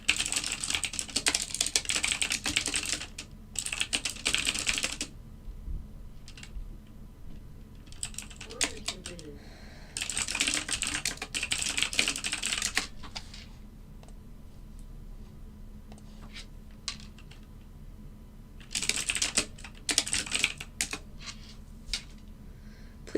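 Rapid bursts of close computer keyboard typing during a live algorithmic futures trading session on NinjaTrader, several clattering runs separated by quiet pauses.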